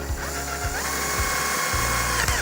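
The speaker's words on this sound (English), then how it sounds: "I'm take my drill and drill vent holes along this" A power drill whirs steadily and close, with brief dips in motor pitch as it bores vent holes in a casting mold, no voices.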